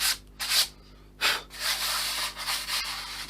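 Repeated strokes of 240 grit sandpaper rubbing over an RC plane wing with an easy-coat covering, bursts of dry scratchy sanding in uneven rhythm, close and fairly quiet.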